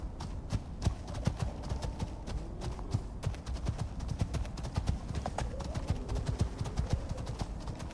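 Horse hooves clip-clop in a brisk, steady rhythm in the survival game Icarus, close and clear, with a brief whinny and some soft speech underneath.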